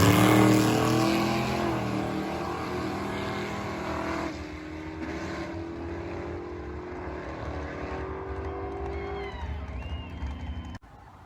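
A Coyote-swapped Ford Mustang makes a drag strip run in a 7.50 index race, its engine a loud sustained roar with rising harmonic sweeps that gradually fade into the distance, ending abruptly.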